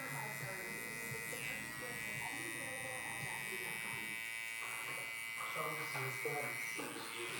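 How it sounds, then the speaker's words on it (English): Close electric hair clippers buzz steadily, set halfway open, while trimming the bottom line of a bald fade. A voice talks over the even hum. "I'm going with my clipper halfway open, and I'm gonna start attacking this bottom line."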